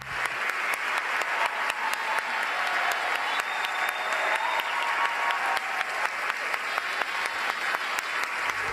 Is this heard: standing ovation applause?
yes